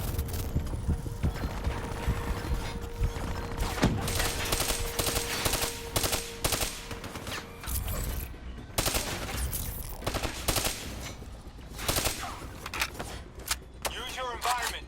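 Continuous gunfire and explosive bursts from a Call of Duty Black Ops III mission, layered with game effects and an in-game voice, dense and loud throughout with rapid volleys.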